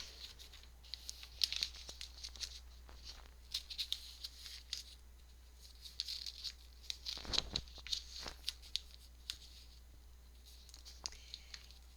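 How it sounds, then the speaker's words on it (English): Paper crinkling, rustling and tearing softly as it is folded and wrapped around a journal like a gift, in quiet close-up handling with irregular crisp bursts and a low steady hum underneath. "I have enough paper down here to just wrap it like a present"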